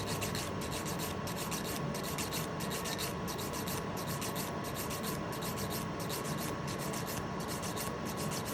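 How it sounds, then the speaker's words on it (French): Nail file rasps flat across the top of a fake nail in quick, regular back-and-forth strokes, a close, steady scratchy rhythm throughout. "vous allez venir à plat, limer le dessus"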